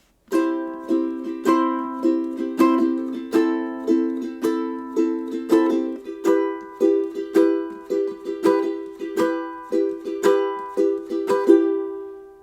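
A ukulele strums steady rhythmic chords through the progression of a song, with clear repeated strokes, close and alone with no voices.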